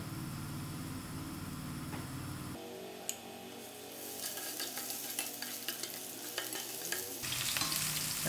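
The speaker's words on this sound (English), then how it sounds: "firstly I'll allow these onions to fry out" Onions sizzling and frying in hot olive oil in a pan for shepherd's pie, a steady loud crackle that jumps in level partway through as they are stirred, with scraping clicks over the hiss.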